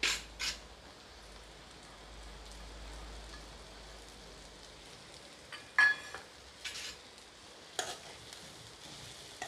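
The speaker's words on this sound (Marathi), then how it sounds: "आता आपण भेंडी ॲड करू." Okra being added to masala in a pan and mixed in, with a few sharp scraping clatters and spatters over a soft steady sizzle-like hiss, close and moderately quiet.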